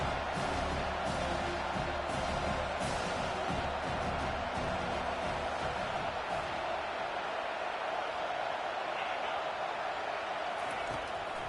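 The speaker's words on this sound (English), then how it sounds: "Here comes this home crowd as the defense tries to get off the field on 3rd down." Home crowd noise in a football video game swells during a third-down defensive stand, a steady loud roar of cheering that fills the whole clip without a break.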